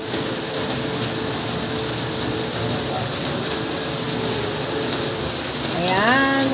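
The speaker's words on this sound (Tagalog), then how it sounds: "Ayan, nandito tayo sa bahay. Buti na lang, bago umulan. Nakarating na tayo sa bahay. So, ayan, umuulan na sa labas." Steady rain pours outside a house in a continuous, even hiss of drops on surfaces, with a brief mechanical whirring sweep rising near the end.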